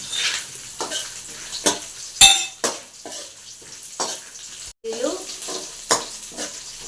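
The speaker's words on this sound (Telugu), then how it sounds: "ఇలా వేగినాక మాడిపోకుండా ఇట్లా కలుపుకోవాలి." Peanuts, green chillies and curry leaves fry in a pan, with a soft sizzle under repeated scraping strokes and clinks as a spoon stirs them close by.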